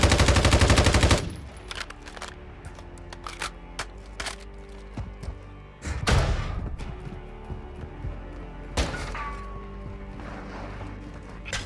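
Heavy gunfire in Modern Warfare 2, opening with a sustained automatic burst, then scattered single shots and short bursts of varying distance, loud and sharp, with no talking.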